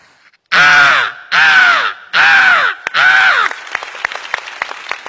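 A voice imitates a small crow, giving four loud nasal caws in a steady rhythm, close to the microphone, followed by scattered audience clapping on a comedy stage.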